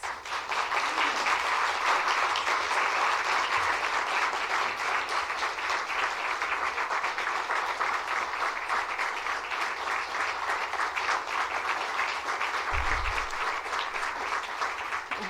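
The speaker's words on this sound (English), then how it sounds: "Audience, please join me in thanking the candidates with your applause." A League of Women Voters Senate District 45 candidate forum audience claps for the candidates in a long, even, steady round of applause heard from a little distance, holding at a constant level throughout.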